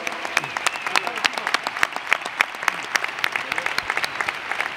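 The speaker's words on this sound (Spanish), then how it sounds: "Ese aplauso para todos ellos, por favor." Applause for Valencia club legends at a presentation ceremony for a legends match, with dense, steady clapping from a crowd filling the whole stretch.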